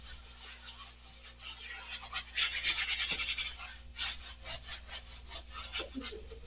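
Rough abrasive sanding screen rubbed back and forth over a wooden furniture board, a steady run of close, scratchy strokes that grow louder and more rhythmic midway, with no voices.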